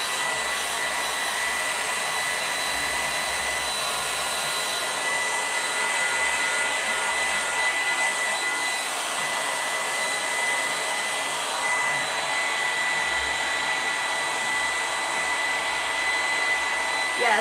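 A hair dryer blows steadily at close range while drying a fireplace mantel, a loud constant whooshing roar that runs unbroken throughout.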